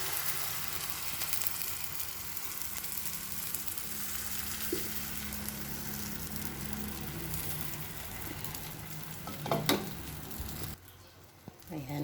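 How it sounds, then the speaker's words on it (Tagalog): Coated eggplant shallow-frying in a little oil gives a soft, continuous sizzle with a low hum beneath, a brief clatter near the end, then a sudden drop in the sound; no speech is heard. "Hindi to deep fry kasi konti-konti lang yung mantika"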